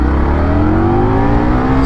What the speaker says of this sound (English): get this bike from 0-60 as quickly as possible